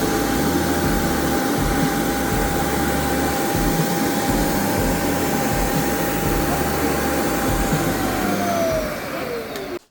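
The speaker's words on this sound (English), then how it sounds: "this is how it sounds when auto emptying the dust container from the vacuum." A Eufy Omni C20 robot vacuum-mop combo auto-empties its dust container at its base station, a loud, steady whirring suction roar with a rising whine that holds for about nine seconds before cutting off.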